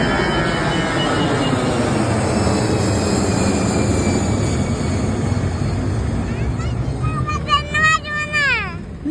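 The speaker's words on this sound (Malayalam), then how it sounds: "ഇനി വിമാനം കാണിക്കാം" An airplane engine gives a steady, broad roar that holds loud and even throughout, with a voice chattering over it near the end.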